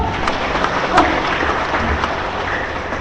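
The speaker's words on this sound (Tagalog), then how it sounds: "ang palakpak nyo" Moderate applause from a gathered church congregation, a steady patter of clapping with a few sharper claps standing out.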